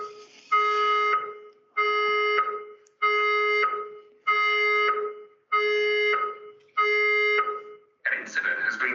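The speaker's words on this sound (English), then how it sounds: "I'm still waiting for the alarm." A building fire alarm sounds in a steady pattern of about six long, evenly spaced tonal blasts separated by short gaps, then breaks into a spoken evacuation announcement, clear and fairly close.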